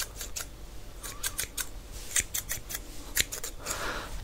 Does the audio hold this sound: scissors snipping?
yes